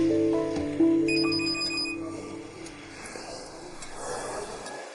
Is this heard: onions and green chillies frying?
no